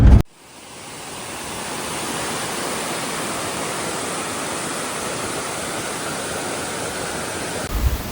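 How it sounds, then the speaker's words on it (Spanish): Roadside waterfall in the Ecuadorian Amazon, a steady broadband roar of falling water heard close and loud, unbroken for several seconds after a brief opening sound. "Y acá estamos en la cascada, miren lo que es."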